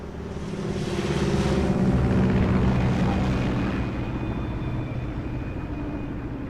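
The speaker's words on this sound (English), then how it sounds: "That plane was loud." Aircraft from Metal Gear Solid 3 roaring overhead, a loud broad engine rumble that swells to a peak, then slowly recedes and thins as it passes, with no talking.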